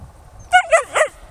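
A 14-week-old male Jämthund pup, out on an off-leash hike, lets out three quick, high, close barks in a tight burst, with quiet in between.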